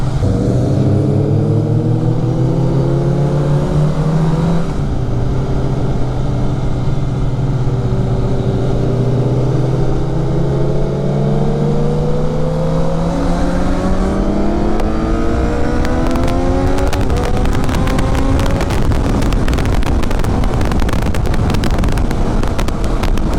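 A superbike with an Akrapovic exhaust rides past loudly at a breakfast meet of superbike riders, its engine note rising and falling through the gears under heavy wind rush.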